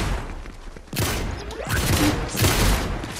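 Gunfire in the video game Fortnite, a few rapid bursts of shots at moderate loudness with dense crackling, no talking over it.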